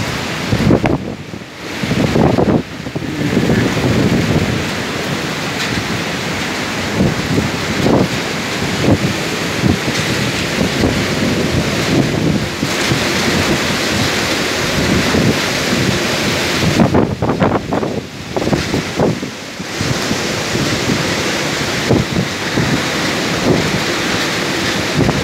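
A storm lashes the Ahmetbeyli coast, with strong wind buffeting the microphone and waves crashing onshore in a loud, continuous roar, with gusty surges and a few brief lulls.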